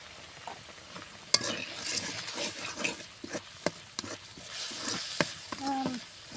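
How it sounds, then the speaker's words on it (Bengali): Chili and turmeric spice paste stir-fried in a pan for a rohu fish curry with ridge gourd: a soft, steady sizzle broken by a spatula scraping and knocking against the pan, close and fairly quiet, with no talking. "মশলাটা ভালো করে কষালো"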